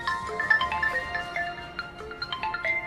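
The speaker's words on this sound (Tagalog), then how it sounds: "Jay, palihog ra ko kuha akong cellphone Jay kana nagtawag" A mobile phone rings with a bright, melodic electronic ringtone, repeating tonal notes steadily for a few seconds at close range.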